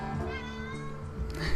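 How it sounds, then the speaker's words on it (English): A pet cat meows close by in a long, drawn-out, wavering cry that rises and falls over a second and a half, with faint background sound around it. "That's my cat, by the way."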